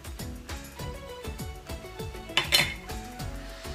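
A utensil scrapes and clinks against a pan while rice is stirred with soy sauce for fried rice, a rhythmic series of close metallic knocks about twice per second with a brighter scrape near the middle.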